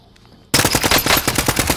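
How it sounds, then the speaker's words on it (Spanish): Loud rapid gunfire from a PlayStation 4 video game bursts in after a quiet half second, dense automatic shots rattling on steadily to the end. "I am under fire."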